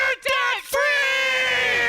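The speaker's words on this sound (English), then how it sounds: "Let's hear a debt-free scream." A family lets out a loud, sustained celebratory scream at a debt-free celebration, a few short shouted bursts giving way to one long held yell of several voices together.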